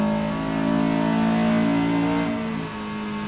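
A Honda Civic Type R on a race track holds high revs, its engine producing a steady, close, droning harmonic roar that eases slightly near the end, with no talking.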